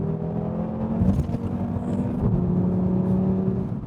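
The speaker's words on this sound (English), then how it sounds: "That engine really does dominate proceedings, and it does have turbo lag, more than I expected it to." A 2018 Audi RS3 turbocharged engine accelerating, a steady moderately loud drone with a rising whir and a slight pitch shift midway, heard from inside the car with no talking.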